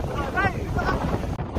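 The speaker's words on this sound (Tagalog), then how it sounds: "Paikot-ikot na lang kami sa sobrang lakas ng hangin." Strong coastal wind buffets the microphone in loud, continuous gusts, with a muffled voice partly heard beneath the roar.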